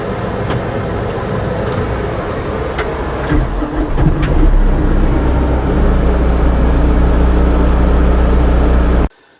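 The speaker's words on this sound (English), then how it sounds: "an issue I've been having, and it even happened this morning whenever I went to start up the tractor" An MT473 tractor engine cranks without catching, a continuous loud churning drone of the starter turning over for several seconds before cutting off abruptly.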